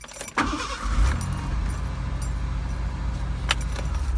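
A car fitted with a newly replaced starter solenoid cranks and catches, then runs with a steady, fairly loud engine rumble, with a brief clatter and a short rattle partway through.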